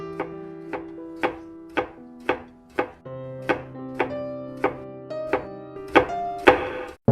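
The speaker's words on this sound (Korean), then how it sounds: "아무것도 없는 빈 도마에 칼질을 하고 있다" A knife chops steadily on a bare cutting board, about a dozen sharp, evenly spaced knocks ringing out alone and close, with a tonal music bed sustained underneath.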